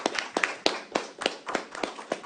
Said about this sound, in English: So these guys want to give you guys a round of applause for your hard work.